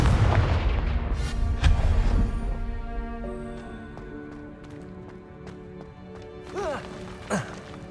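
Booming blasting-spell explosions from the Hogwarts Legacy video game, a heavy impact up front that rumbles and fades, followed by scattered lighter effects and distant battle noise.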